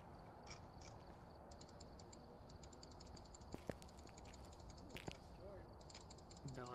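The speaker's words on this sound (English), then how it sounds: "I can hear you spam clicking." Rapid mouse clicking from a player during a Phasmophobia session, heard as faint bursts of quick, light ticks repeating in clusters over a steady low hiss, with a few sharper knocks between them.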